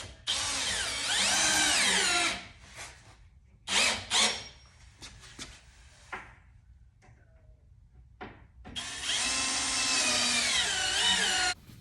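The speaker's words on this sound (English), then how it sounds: "I secured the plywood using the trim head screws, 2-inch." A power drill drives 2-inch trim head screws into plywood while building a DIY work table: two long, loud whirring runs at the start and end, with shorter bursts and clattering handling sounds in between.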